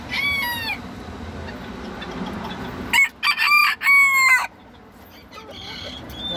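A bantam rooster crows twice, first briefly and then in a longer, loud, strained call nearby, with faint clucking and farmyard background between the crows.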